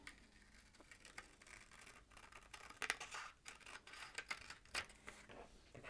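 Scissors snipping away excess bra fabric, a quiet, close series of irregular crisp cuts and scratchy blade strokes against a hushed room background.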